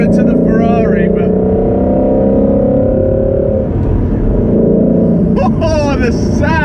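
Ford Shelby GT350 engine rumbling steadily while driving, loud and close inside the cabin, with someone talking over it at the start and end.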